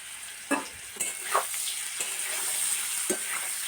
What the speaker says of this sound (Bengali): এই দেখুন বন্ধুরা, তেল গরম হয়ে গেছে। আর সিদ্ধ করা মূলোগুলো দিয়ে দিচ্ছি।